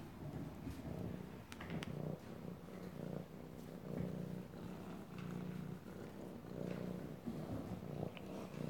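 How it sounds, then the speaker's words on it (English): A kitten purrs close up in a soft, continuous rhythmic rumble, quiet and steady throughout, with no talking. "Listen to that purr bucket."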